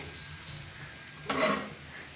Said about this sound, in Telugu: టమాటో పచ్చిమిర్చి కూడా వేయించేసుకున్నాను ఆయిల్ వేసుకునేసి